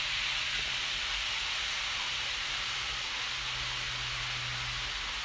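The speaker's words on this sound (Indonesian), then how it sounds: "ada yang sedang menggoreng. Dan gorengnya ini berisik banget" Food frying noisily in a pan somewhere nearby gives off a constant broadband sizzle that stays steady and fairly loud for the whole stretch, with a faint low hum underneath.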